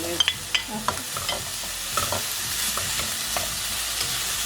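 Fresh garlic and ginger fry in a pan with a steady, close sizzle, broken by a few sharp clicks and scrapes of stirring near the start.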